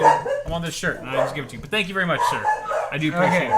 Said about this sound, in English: Sorry the dogs are freaking out right now,